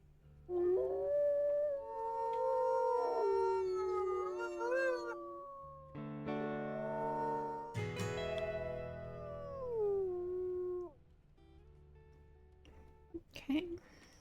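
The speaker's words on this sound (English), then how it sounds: "Can hear Magnus howling back" Several wolves in WolfQuest Saga howl back in long overlapping, wavering calls that swell and fade, loud and close, followed by brief quieter sounds.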